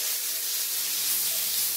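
Pre-cooked green beans frying in a pan, giving a steady, soft sizzling hiss that holds evenly for a couple of seconds with no talk over it.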